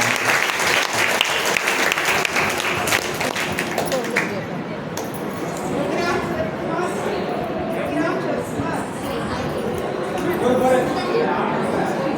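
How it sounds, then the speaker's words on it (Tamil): Audience of devotees applauding to welcome drama performers at a Manikkavasagar life-story play, dense sustained clapping at first that thins into crowd chatter and voices. "அனைவரும் சேர்ந்து ஒரு கரகோஷம் எழுப்பி அவரை வரவேற்போம்."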